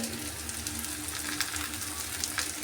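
Okra bhurji sizzles steadily in a pan as spices are added, a soft continuous frying crackle with faint scattered ticks, fairly quiet and close, no voices.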